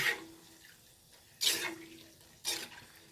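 Water drains from soaked food in a kitchen, splashing out in three short bursts, close and fairly quiet, with a low hum in the gaps.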